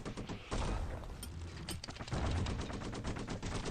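Rapid gunfire from the video game Bastion: dense, repeated shots in fast bursts with a few sharper impacts, loud and continuous throughout, without talking.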